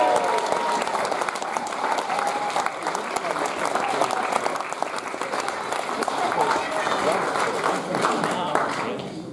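Sustained applause from a large audience at the 2015 Oldie of the Year awards ceremony, honouring long-distance runner Sir Roger Bannister, dense and steady clapping throughout with some cheering voices mixed in.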